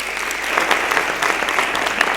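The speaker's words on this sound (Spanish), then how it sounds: "un fuerte aplauso para ellos, que se lo merecen" Warm applause from an audience, steady clapping throughout that stays even and fairly close.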